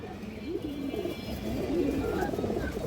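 Old-line female pigeons coo in low, rolling, repeated calls at close range, with a steady soft background murmur and no voices.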